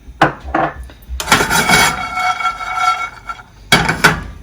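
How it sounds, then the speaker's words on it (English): Cashews poured into a pan on the stove, a few clattering hits followed by a longer rattling rush of nuts against metal, then a final sharp clink, close and unaccompanied by talk. "we're going to take our cashews, and we're just going to put them in the pan"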